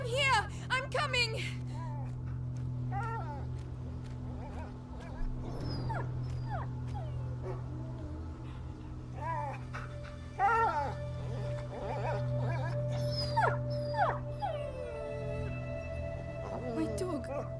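A dog whimpers and yips in A Plague Tale: Innocence. Its high, wavering cries and whines are scattered through the scene over a low droning hum, mixed with people calling out.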